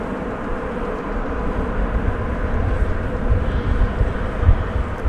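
An American Boeing 777 arriving from Phoenix, Arizona at DFW produces a low, rumbling engine drone, steady and fairly loud, swelling slightly near the end.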